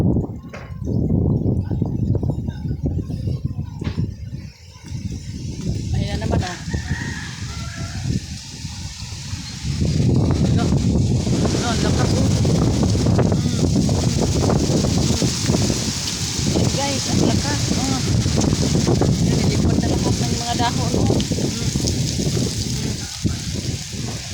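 Strong wind ahead of a typhoon roars and gusts steadily, rustling leaves, with people talking underneath and louder gusts building in the second half.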